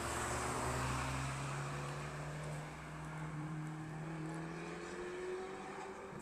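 A car engine drones steadily as the vehicle drives past on a roadside, its pitch gliding and shifting while loud, continuous road and engine noise fills the scene with no talk.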